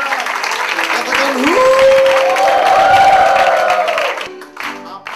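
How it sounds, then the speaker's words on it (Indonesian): A church congregation applauds loudly and cheers with whoops in a big, roaring wave that swells and then begins to fade. A sustained musical tone rings underneath. "Tepuk tangan yang dahsyat. Lebih dahsyat."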